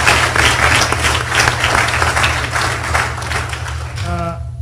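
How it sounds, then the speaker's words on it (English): Audience applause after lecture speakers at a cybersecurity lecture series makes a steady, busy clatter over a low electrical hum, and a voice breaks in briefly near the end. "So a round of applause to them and to their participation."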